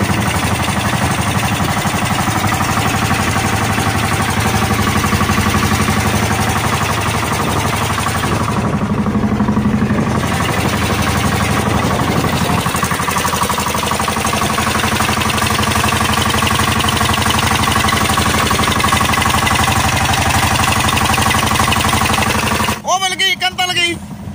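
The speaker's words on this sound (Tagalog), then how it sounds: "naka-testing ng makina" A newly built boat's engine on a test run gives a loud, steady drone with a rattling hum close by, dipping briefly midway, then ending in a sharp clatter.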